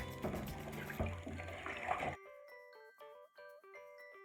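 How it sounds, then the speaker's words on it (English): Water splashes and runs as corn husks are soaked and rinsed for tamales, a busy wet churning for about two seconds. Then it stops, and gentle chiming musical notes play on their own. "We're going to take this into the water. We'll soak it and rinse it."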